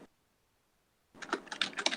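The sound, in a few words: typing code on a computer keyboard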